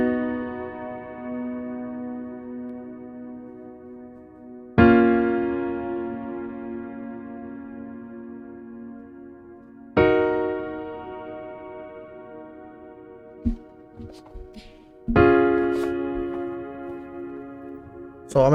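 Chords for an emotional type beat, struck one at a time about every five seconds, each ringing out and slowly fading, with a few faint clicks in between.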